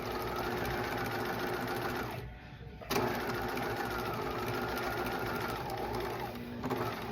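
A sewing machine stitches a flat felled seam, running steadily and loud close by with a brief pause partway through before it continues.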